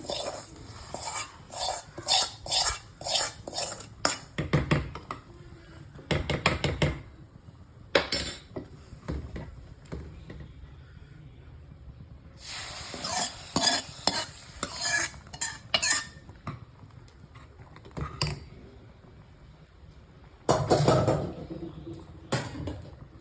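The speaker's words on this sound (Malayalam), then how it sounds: "ഈ മൂപ്പിച്ച് വെച്ചിരിക്കുന്ന മസാല നമുക്ക് ഈ സാമ്പാറിൻ്റെ അകത്തോട്ട് ഇട്ട് കൊടുക്കാമേ" Fried masala is tipped into a pot of ridge gourd sambar and stirred, with scraping utensil knocks and clinks coming in irregular bursts, some louder and close, between quieter stretches. No one talks.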